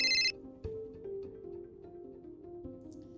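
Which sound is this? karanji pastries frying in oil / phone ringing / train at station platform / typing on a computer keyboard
phone ringing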